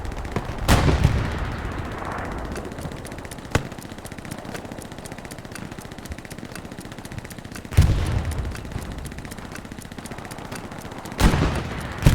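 Gunfire and artillery in an online Omaha Beach match of a competitive WWII shooter: rapid distant rifle and machine-gun bursts throughout, punctuated by a few loud booming artillery impacts, no talk.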